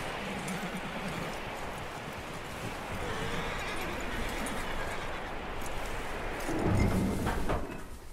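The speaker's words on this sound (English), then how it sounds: "That looks like a decent horse." A horse in Red Dead Redemption 2, hooves clip-clopping steadily at close range over a noisy background, with a short burst near the end that may be a whinny.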